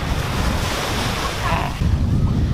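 Waves wash and surge continuously with wind buffeting the microphone, a steady broad rush of surf nearby.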